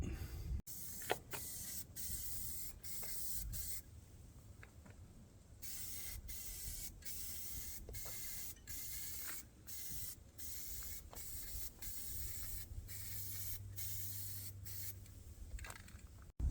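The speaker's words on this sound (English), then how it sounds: "So let's shoot some paint." Spray gun laying paint onto tractor quick-attach forks in John Deere green, a steady close hiss running in long bursts broken by short pauses between passes, with no talk.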